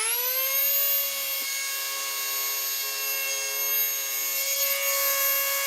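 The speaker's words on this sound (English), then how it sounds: "you can easily turn this 45 degrees and do a chamfer." A Dremel PL400 planer with an angled guide shaves a 45-degree chamfer along a wooden edge, giving a steady high-pitched motor whine with bright tonal harmonics and faint rubbing of the cutter against the wood, close and continuous throughout.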